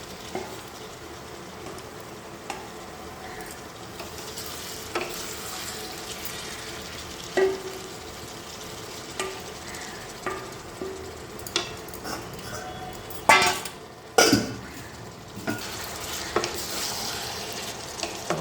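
Mutton seasoned with salt, turmeric, mustard oil and Kashmiri chilli powder frying in a pan, a steady close sizzle broken by scraping stirs and a few louder clatters near the middle; no one speaks.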